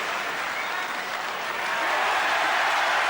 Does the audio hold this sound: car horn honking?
no